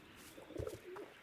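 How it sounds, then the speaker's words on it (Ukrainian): A single pigeon in the video game A Plague Tale: Innocence gives a soft, low coo, faint and brief against a quiet background. "Який голуб красивий."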